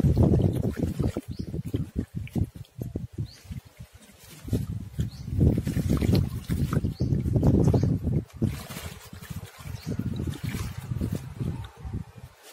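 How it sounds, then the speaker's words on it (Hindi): Water poured gently over clay pots freshly sown with bitter gourd seeds, a steady trickle and splash lasting throughout at close range, with someone speaking at times over it. "अब हम इसकी वाटरिंग करेंगे"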